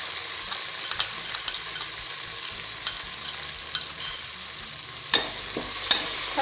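Fresh mint and fenugreek leaves fry in a pan for vegetable pulao, with a continuous sizzle broken by repeated scraping stirs and a couple of sharper clatters near the end.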